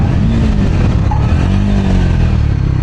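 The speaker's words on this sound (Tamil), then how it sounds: "இன்ஜின் பிரேக்கிங் நல்லா ரெஸ்பாண்ட் பண்ணுது" A Triumph Scrambler 400 X motorcycle engine-brakes while riding, with a loud, close engine drone that falls in pitch as the bike slows over a few seconds.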